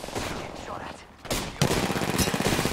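Rapid automatic gunfire in Apex Legends keeps going in dense, loud bursts. It pauses briefly, then comes back harder, with faint talking underneath.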